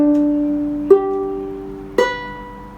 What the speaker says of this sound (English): String by string would be.